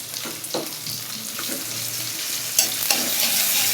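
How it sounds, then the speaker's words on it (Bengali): Sliced onion and green chilies sizzle in a pan for an eggless snake gourd bhaji. A steady close crackle carries a few sharper stirring knocks, and no voices are heard. "আর এই হচ্ছে পেঁয়াজ কাঁচামরিচ দিয়ে দিচ্ছি"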